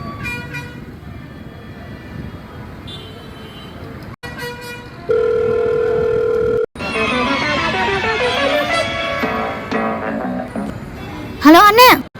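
A telephone call being placed, with a short run of dialing tones, then a steady tone, then a brighter melodic ringback tune that ends in a few rising chirps, loud and close.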